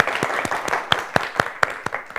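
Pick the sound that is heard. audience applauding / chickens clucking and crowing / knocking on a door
audience applauding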